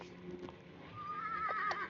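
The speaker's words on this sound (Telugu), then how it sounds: "ఏంది అది గుర్రం సౌండ్." A horse in the Roblox game 99 Nights in the Forest lets out a faint, drawn-out whinny that rises and wavers over a low background hum, with a few soft hoof-like knocks.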